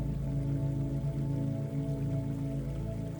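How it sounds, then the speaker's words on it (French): Water spilling from a waterfall that emerges from rock among trees, a continuous even rush that stays steady and close for the whole stretch, with no voices over it. "il y a une cascade qui émerge de la roche, à travers les arbres"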